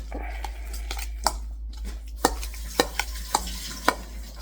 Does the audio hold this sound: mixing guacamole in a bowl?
yes